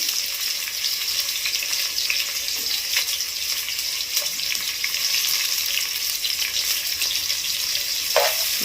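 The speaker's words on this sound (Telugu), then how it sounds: "ఎర్రగడ్డలు వేస్తున్నాయి, బాగా ఎర్రగా వేగాలి." Chopped onions frying in a pan for egg biryani, giving a steady, close sizzle that carries on throughout, with a few faint clinks over it.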